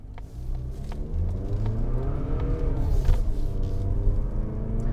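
A 2021 Mazda CX-30 2.5 S Premium with a six-speed automatic accelerates, its engine drone climbing smoothly in pitch with rising and falling harmonics, heard from inside the car as a steady, moderately loud whirring rumble.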